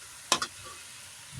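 Tofu and string beans frying in a pan, a steady sizzle throughout with two sharp clanks of a utensil stirring near the start.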